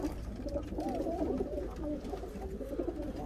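Pigeons in a rooftop loft coo softly and continuously in low, rolling tones, with faint background noise and no talk.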